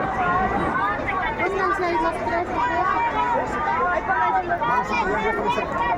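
Dense crowd chatter at a Halloween celebration in La Paz, Bolivia: a steady, close wash of many overlapping voices and babble with no single speaker standing out, holding level throughout.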